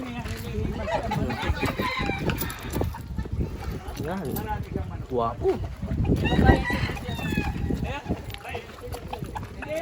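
Backyard roosters and chickens cluck and crow intermittently at close range, one crow rising clearly midway, while people talk over the birds throughout.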